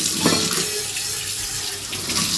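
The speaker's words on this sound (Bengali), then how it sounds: "আগে সসপ্যানটা ধুয়ে ফেলি" A saucepan is washed under a running kitchen tap, with close, splashing water hissing continuously and a few clanks of the pan against the stream.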